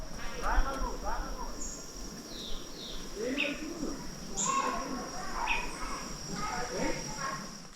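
Birds calling along a forest park trail near Teresópolis, with scattered chirps and short whistled calls over a steady insect-like background, while people talk throughout.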